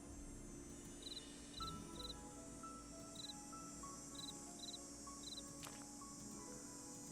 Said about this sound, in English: Well, I hear chirping.